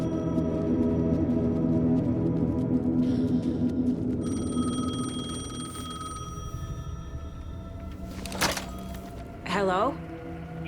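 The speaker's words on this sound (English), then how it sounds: "The payphone was ringing" A payphone rings in the video game Alan Wake 2, with a short burst of rings arriving late over steady, droning game music and ambience.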